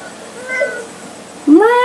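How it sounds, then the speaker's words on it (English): A big 20-pound female house cat named Max gives a short, close meow with a rising then falling tone near the end, after a quieter stretch of low room noise. "Meow."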